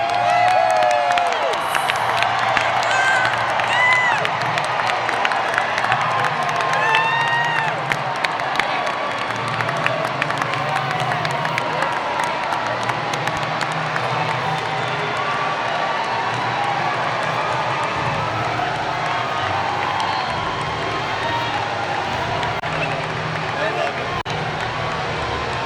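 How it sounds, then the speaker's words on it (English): A large crowd at an outdoor Donald Trump event in Millington, Tennessee cheers wildly, a steady roar of cheering that runs the whole time as the Trump plane flies over, with voices heard through it. "The Trump plane going by and the crowd going wild"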